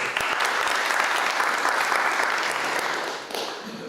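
Audience applause at a conference session on global dignity in Cape Town, a dense, sustained clapping from a room full of people that holds steady before easing slightly at the end.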